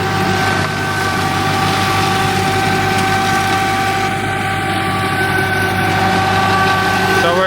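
A Massey Ferguson 35 tractor engine with stuck valves drones steadily and loudly while mulching thick grass along a shop edge, a constant low mechanical rumble with voices faintly underneath.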